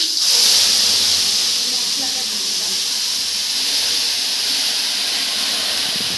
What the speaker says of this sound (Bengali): তারপর তেলের উপরে তেজপাতা আর গোটা গরম মশলা দিয়ে দিয়েছি